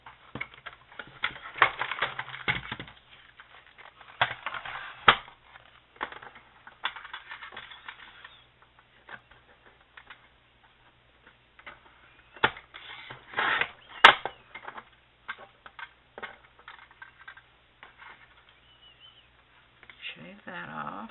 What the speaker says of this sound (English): I have a paper trimmer, so I'm going to fix it.